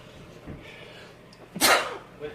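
One forceful human sneeze, near and loud, at a tabletop wargaming table indoors, preceded by a quiet stretch with faint sounds, a short sharp burst that trails off.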